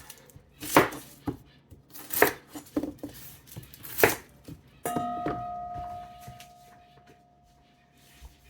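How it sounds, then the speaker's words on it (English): Knife dicing onions on a cutting board for homemade baked beans, with several sharp, loud chops in bursts, then a lingering ringing tone and quieter clatter toward the end. "So I'm going to cut up some onions here."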